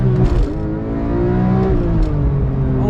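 A Porsche 911 GT3 Touring revs and accelerates hard from a red light, its engine note loud and close, climbing and rising in pitch for about three seconds with no voices heard.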